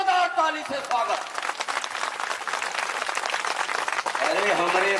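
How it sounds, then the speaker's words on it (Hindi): A crowd at a village madai fair in Bemetara breaks into loud, sustained applause, dense clapping that runs throughout while a voice speaks over the start and end. "एक बार और जोरदार ताली से स्वागत।"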